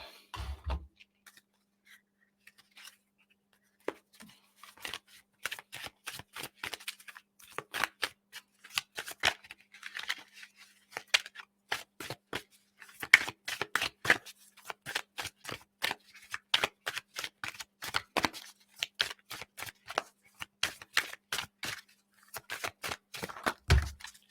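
Tarot cards being shuffled by hand, close and crisp, with repeated riffling bursts and flicks in an uneven rhythm, short pauses between rounds and no talking.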